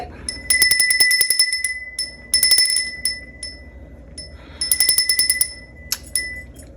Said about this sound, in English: let me ring this bell to cleanse the energy.